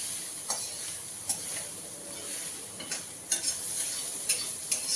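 Fish frying in a pan with garlic and green chillies gives a steady, close hiss of hot oil, broken by a few sharp ticks and light utensil taps spread across the stretch, with no talking.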